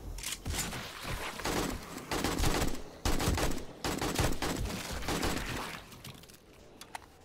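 Rapid, loud gunfire in the zombie survival game 7 Days To Die during a horde night, dense bursts of shots rattling almost continuously before thinning out to a few last pops.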